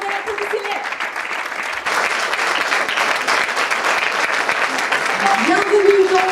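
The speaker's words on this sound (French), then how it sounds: "Applaudissez-les." Audience applause at a dance show in a cultural centre, a steady wash of clapping lasting throughout, loud and close, with a voice speaking over it near the start and end.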